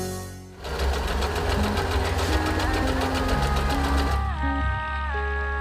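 An Usha Dream Stitch sewing machine runs at a steady pace, a loud continuous mechanical whir with a rapid needle rhythm, accompanied by faint tonal music.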